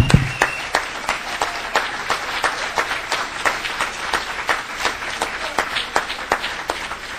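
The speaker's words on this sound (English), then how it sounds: "give you a round of applause before you come up here and accept your awards" A small audience at a semi-pro football Hall of Fame induction applauds the new inductees with loose, distinct claps in an uneven rhythm. The claps are fairly close and sound sparse, as from a modest crowd in a hall.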